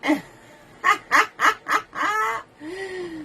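A bird honks nearby, a quick series of four or five loud nasal calls followed by two longer drawn-out honks, with no talk over them.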